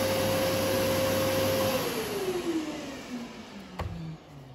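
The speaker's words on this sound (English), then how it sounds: "And you just got a standard random orbit sander, which is battery." A Festool ES ETSC 125 cordless random orbit sander runs with a loud, steady motor whine whose pitch slides gradually downward as it spins down, ending with a brief knock near the close.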